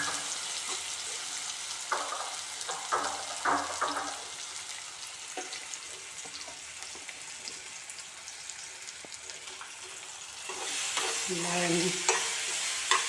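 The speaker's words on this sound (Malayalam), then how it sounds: "ഈ 2 നേന്ത്രപ്പഴം ചെറുതാക്കി നുറുക്കിയതാണ് അതൊന്നിട്ട് വാട്ടി കൊടുക്കുക" Chopped plantains sautéing in ghee in a pan, a continuous soft sizzle broken by repeated scraping strokes of a spoon stirring, louder bursts near the end, no talking.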